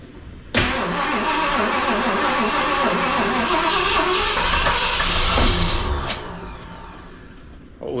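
A 1973 Ford LTD barn find with a rebuilt engine cranks and catches, firing into a loud rough run with hissing for several seconds before cutting back to a quieter idle, with a brief voice near the end.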